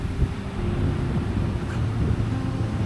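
Strong wind buffets the microphone at a seaside campsite in San Juan, Batangas, a steady low rumble and roar that holds for the whole stretch with no voices.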